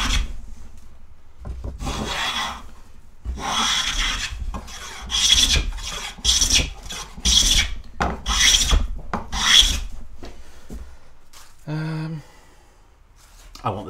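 A wooden coffin plane smoothing a sawn wood face: a series of rhythmic rasping shaving strokes, close and fairly loud, each a short scraping swish, with a brief pause and a softer sound near the end.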